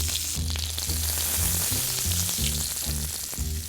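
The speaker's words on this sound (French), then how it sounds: "on va incliner légèrement notre poêle et on va venir arroser" A rack of lamb sizzles loudly in a tilted frying pan while being basted, with a steady crackling fry and rhythmic spoon taps against the pan.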